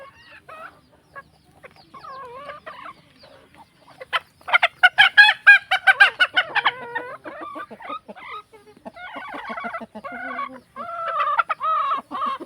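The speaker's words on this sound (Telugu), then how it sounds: "మా కోళ్ళు అయితే చూడండి" Country chickens on a farm cluck and call in a busy burst of overlapping squawks, fairly close, with quieter clucking before and after.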